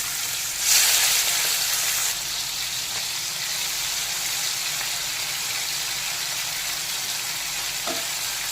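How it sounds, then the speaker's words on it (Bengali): Turmeric and salt coated shrimp hit hot mustard oil in a wok, a sharp loud hiss at the start that settles into a continuous close sizzle, with a soft scrape near the end. "তেল গরম হয়ে গেছে নুন হলুদ মাখানো চিংড়ি মাছগুলোকে দিয়ে দেবো"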